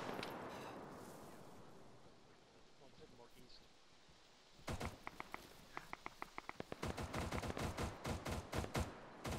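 Gunfire in a military shooter game: a faint rattle of shots at first, then a rapid string of sharp cracks in bursts, with a few single reports between them.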